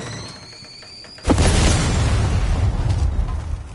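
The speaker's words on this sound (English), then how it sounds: "But explosions are fun." A single deep boom from an in-game explosion hits suddenly and then rolls on as a loud, sustained rumble that slowly fades, close and alone with no talk.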